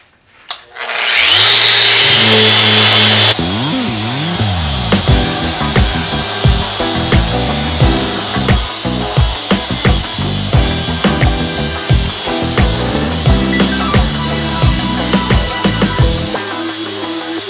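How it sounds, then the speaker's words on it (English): A power sander works epoxy drips off the sides of a wooden boat shaft log, starting with a rising whine, then a steady close grinding buzz broken by repeated scraping pulses as the tool moves across the wood. "I'm just going to get ready to sand off the little drips of epoxy they got on the sides here"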